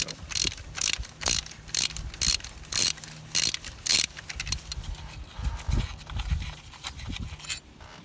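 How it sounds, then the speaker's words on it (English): Wrench ratcheting on a bolt of a Sprinter van diesel engine during an injector seal repair, with loud, clicking bursts in short repeated strokes and quieter fumbling between them. "There's our first bolt out."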